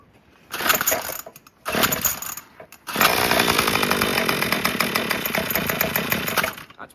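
A Craftsman weedwhacker's two-stroke engine catches after a couple of short sputtering bursts, then runs loud and buzzing, close by and steady.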